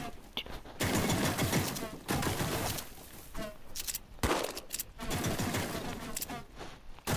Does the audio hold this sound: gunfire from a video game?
yes